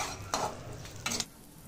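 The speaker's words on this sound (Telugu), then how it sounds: "ఈ అంజీర్ అంతా ఒకసారి నేతిలో మంచిగా వేయించేసుకోవాలి" Small pieces of dried fig fry in ghee while a spoon stirs them. There is a faint, steady sizzle and two quick scraping strokes against the pan, up close and quiet, with no voices.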